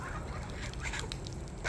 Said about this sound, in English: And we have the geese.